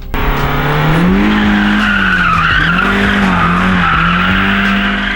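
A race car slides sideways with a loud, sustained tire squeal that wavers in pitch over engine noise, close and dominant for several seconds with no talk.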